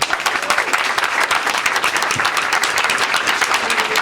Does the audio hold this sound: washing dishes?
no